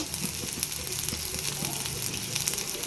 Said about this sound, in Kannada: ಕರ್ಬೆವು ಫ್ರೈ ಮಾಡ್ಕೊಳ್ಳಿ